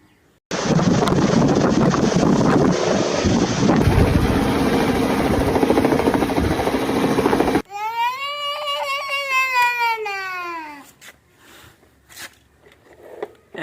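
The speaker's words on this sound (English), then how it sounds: "Helicopter." Helicopter rotor and engine roar steadily and loudly for about seven seconds, then cut off abruptly. A wailing, pitch-sliding tone and faint voices follow.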